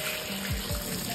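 A gallon of water gushes into a 5-gallon bucket, a steady close pour with rising gurgles and a hollow splashing tone.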